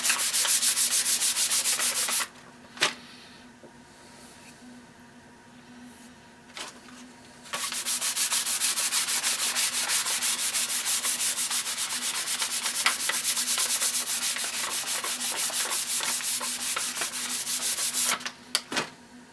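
Wood on a Winchester gun stock is sanded by hand with 220 grit paper and Timberlux finish, a steady rasping scrub in long continuous stretches broken by a short pause, close and without talk.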